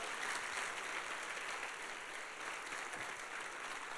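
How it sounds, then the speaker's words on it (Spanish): A church congregation applauds loudly and steadily, a thick sustained roar of many clapping hands with no break, heard from within the crowd at moderate level. "le demos un fuerte aplauso a la palabra de Dios"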